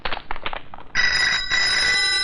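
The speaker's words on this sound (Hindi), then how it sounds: "निकलते वक्त फोन की घंटी" A telephone bell starts ringing about a second in and keeps going steadily to the end, loud and close, after a brief stretch of muffled movement and noise.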